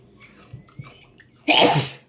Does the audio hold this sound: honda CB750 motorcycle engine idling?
no